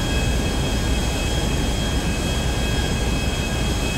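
An airplane in GTA V Online roars steadily with a dense, unbroken engine drone throughout, loud and close, with no talking.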